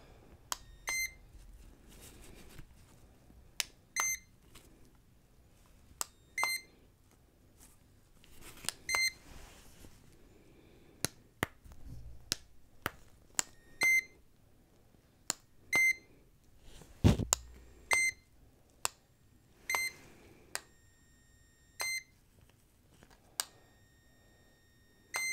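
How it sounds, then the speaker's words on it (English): Short electronic beep tones sound one at a time at irregular intervals during a hearing check in a cranial nerve exam, clean and distinct against a quiet background with faint handling noise. "I want you to raise your hand every time you hear a beep"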